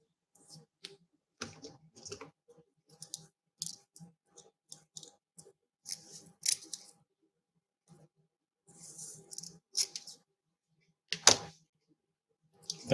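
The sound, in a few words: trimming material for homemade capacitor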